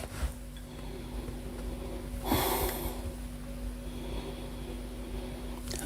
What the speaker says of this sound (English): first sniff.